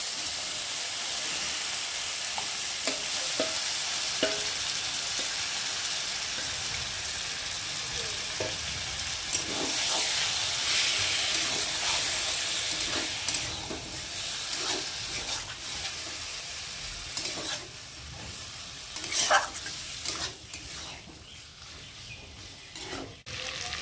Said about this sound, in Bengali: আর এখন আমি জিরে মেটে রাখে মশলার মধ্যে দিয়ে ভাতকে ভালো করে কষিয়ে নেব।